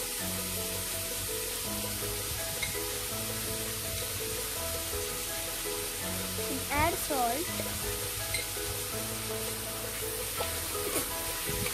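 Green chili and curry leaves sizzling steadily in hot oil in a pan, a loud continuous frying hiss with brief scraping as they are stirred and mixed, while someone talks over it.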